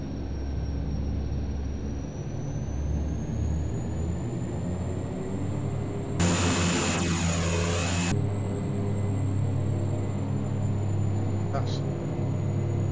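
Airliner jet engines at takeoff power in the Prepar3D v4 flight simulator, a steady droning roar with a high whine, continuous and fairly close, with a brief loud burst of noise in the middle.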